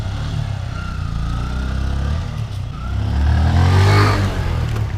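A Harley-Davidson Fat Boy motorcycle rumbles through Bangalore traffic, its deep loud engine drone holding steady before revving up and swelling toward the end, with road and traffic noise around it and no one speaking.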